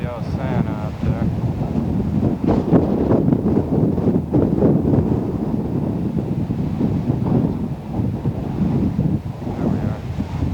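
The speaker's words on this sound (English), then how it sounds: "this wind is getting bad." Strong gusts buffet the microphone outdoors by a store, a loud, rumbling roar that swells and fades throughout, with a person talking faintly underneath.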